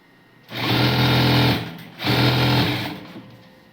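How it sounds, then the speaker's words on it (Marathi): A sewing machine stitches baby frock fabric in two even bursts of about a second each, humming loudly with a rapid, steady needle rhythm, separated by a short pause; no one speaks. "पहिला आपण जिथं कट मारला तिथं एक शिलाई मारून घेऊया"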